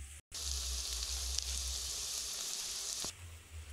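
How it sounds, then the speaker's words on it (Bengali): Browned onions sizzling in oil with turmeric and red chili powder, a bright continuous hiss up close that drops away near the end after a brief gap at the start, with no voices. "পেঁয়াজটাকে হালকা লাল লাল করে ভেজে নেব"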